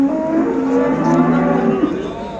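A cow lowing in a long, drawn-out moo, fairly close and loud, with farmyard background noise around it, at a livestock market in Göksun, Turkey.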